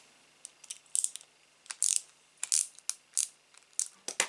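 A screw being tightened on a model Citroën Type H: a string of sharp, close ratcheting clicks in short bursts with brief gaps, no speech.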